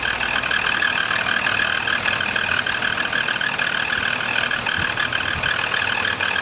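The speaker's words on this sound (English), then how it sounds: "I'll show you some of the strange noises that this failing alternator is making." A BMW E39 with the M54 engine idles steadily up close, its failing alternator adding a constant high whine over the even engine drone.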